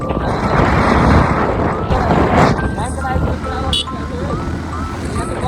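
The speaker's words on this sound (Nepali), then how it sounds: "यहाँ मेरो बाइक चाहिँ मोटर चलाइरहेको छ" A motorcycle ride: a steady engine drone buried under heavy wind rush, with a faint voice briefly audible partway through.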